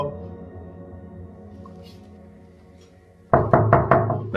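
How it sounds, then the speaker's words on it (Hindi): Four quick, firm knocks rap on a door close by, following a stretch of quiet room hum. "अरे 10 दफा नॉक किया, खोल ही नहीं रही दरवाजा"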